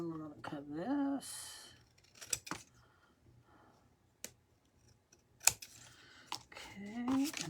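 Scissors snip through paper for a junk journal in a few short, sharp cuts spread across the stretch, with a voice talking at the start and end.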